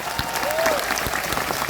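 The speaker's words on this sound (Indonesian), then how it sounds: "Tepuk tangan untuk BMI." Thousands of Indonesian migrant workers gathered in Taiwan applaud together, a brief burst of dense, steady crowd clapping heard alone and close.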